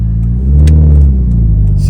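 A car engine runs steadily while driving, a loud low drone that rises slightly mid-way; the car recently had its idle air control valve replaced after a bouncing idle.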